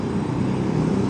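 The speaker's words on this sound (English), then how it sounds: "Multirotor." A multirotor drone hums with a steady, droning buzz, constant in pitch and loudness throughout.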